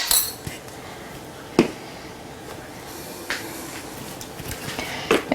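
Mock tuna ingredients mixed in a bowl with a utensil: a few sharp clinks and taps of metal against the dish over soft scraping, close and fairly quiet, with no talk.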